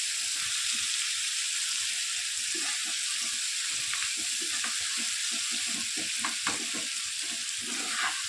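Onion and tomato pieces fry in a pan with a steady, close sizzle that never stops, while stirring adds soft scraping taps throughout.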